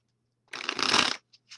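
Tarot cards are riffled in a single quick shuffle lasting about half a second, close and crisp, followed by a couple of light card taps in an otherwise quiet room.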